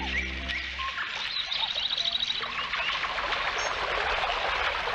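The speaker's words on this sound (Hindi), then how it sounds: "मैं तो बर्ड्स की चर्पिंग भी सुन सकता हूँ।" Birds chirp in a nature setting, with quick bright tweets and a rapid trill rising over a steady background wash, fairly close and continuous.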